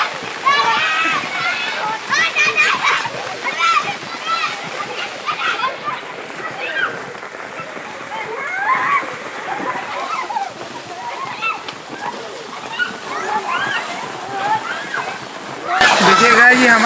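Village children splash and play in rainwater on a flooded road during monsoon rain, with repeated sloshing and splattering under steady rain, their excited voices and shouts mixed throughout, and a louder splashing burst at the end.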